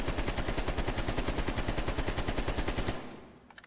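An AK47 with a KGB skeleton stock fires in Call of Duty, a loud rapid automatic burst of evenly spaced shots for about three seconds, then the fire stops and an echoing tail fades out.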